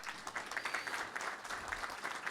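Faint, distant applause from an audience at a business association leadership ceremony, a dense steady patter of many hands with no voices standing out.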